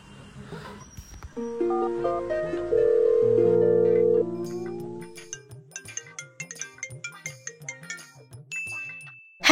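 A phone ringtone plays while a call is being placed, a loud melodic electronic jingle of sustained tones followed by a rapid run of short repeating notes, heard alone without talk.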